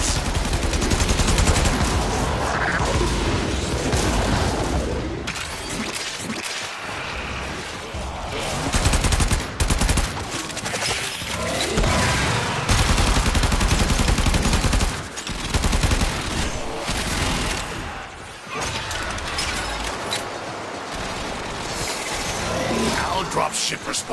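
Heavy artillery booms and rapid gunfire rattle almost without pause through a Warframe boss fight against Ambulas on Hades, loud and dense, with explosions layered over the shooting.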